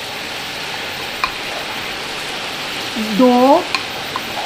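Minced garlic sizzles in hot oil in a karahi of mutton, a constant crackling hiss heard close by, briefly joined by a short voice.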